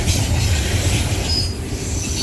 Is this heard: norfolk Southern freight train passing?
yes